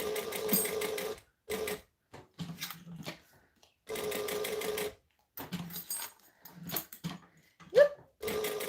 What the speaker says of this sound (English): I'm going to stitch this on so that I've got less stuff lying around